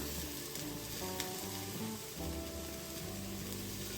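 Masala frying in a pan with fresh mint and coriander added, a steady close crackling sizzle with low bubbling underneath, continuous throughout.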